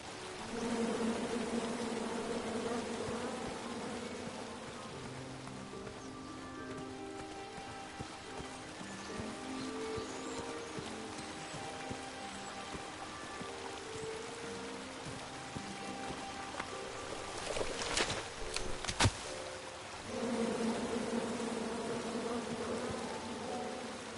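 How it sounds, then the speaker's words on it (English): Bees in the King's Quest video game on PS4 buzz in a steady, dense drone throughout, with a brief sharp interruption near the end before the buzzing resumes. "Come at me, bees!"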